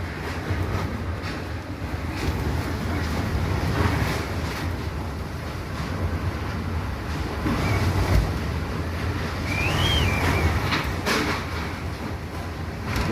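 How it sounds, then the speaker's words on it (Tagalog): Strong wind from typhoon Odette roars in Cebu, a continuous heavy rush with surging gusts and a brief thin whistle partway through, loud and close with no voices. "Ang lakas ng hangin guys."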